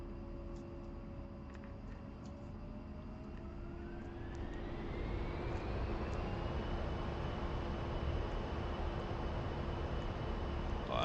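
An A-10C jet in the DCS flight simulator spooling up for takeoff, a steady engine roar with a rising whine that swells louder and holds, no voices.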